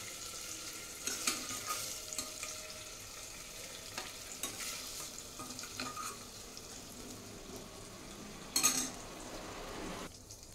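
Paneer cubes frying in hot oil in a pan, a quiet steady sizzle with scattered spoon stirs and metallic clinks throughout, close up and without talk.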